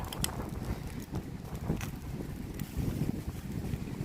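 Strong wind at a beach campsite buffets the microphone in loud, rough gusts, with a constant blustery roar outdoors.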